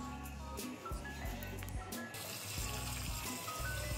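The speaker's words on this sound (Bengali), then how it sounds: "রসুন আর আদা ধুয়ে নিচ্ছি" Garlic and ginger being rinsed under running tap water in a kitchen, a faint continuous trickle and splash with small clinks throughout.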